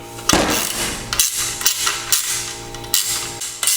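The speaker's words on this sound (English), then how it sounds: "Use a wrench or a socket on this end and take them off. Make sure the ratchet's in the right direction." A ratchet wrench works the bolts of a Spinergy TC stainless wheelchair push rim, producing loud, close metallic clacks in irregular strokes about every half second over a faint steady hum.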